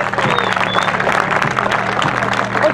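A crowd at a competition event applauds in a thick, continuous wash of clapping with some cheering, and low tones running underneath throughout.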